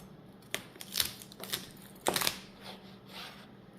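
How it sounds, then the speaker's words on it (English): Knife cutting the bulb off a beet on a board, a few sharp crunching cuts and taps, close but quiet, with several distinct strikes spread over a few seconds. "I'm going to cut just about right here and cut the bulb of the beet off"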